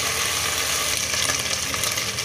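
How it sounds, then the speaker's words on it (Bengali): Spice paste for a hilsa fish curry with sweet pumpkin fries in a pan, giving a steady, loud, close hiss and sizzle with no pauses. "মশলাটা একটু ভেজে নিচ্ছি"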